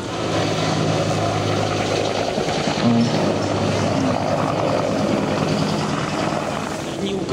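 An AH-1 Cobra attack helicopter hovers and flies at an air show, its loud continuous rotor and engine roar steady throughout.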